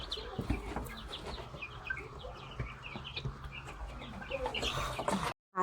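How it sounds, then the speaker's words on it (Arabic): White local-breed ducks call close by in a steady stream of overlapping clucking calls, with a brief flutter near the end and no talk. "انا بموت في البط الابيض"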